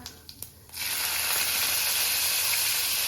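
Cumin seeds hit hot oil and break into a loud, steady sizzle that keeps going to the end, after a few light taps and clinks at the start.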